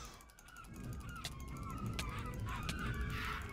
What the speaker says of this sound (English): Get off me, you fucking birds!